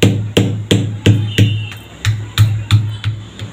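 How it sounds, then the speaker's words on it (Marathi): A pestle pounds ginger, garlic, peanuts, sesame seeds and coriander in a mortar: about ten sharp, evenly spaced thuds in a steady rhythm, close and loud, with no voices. "हे आपल्याला सर्व खलबत्त्यात वाटून घ्यायचं आहे।"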